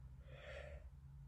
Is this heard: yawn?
yes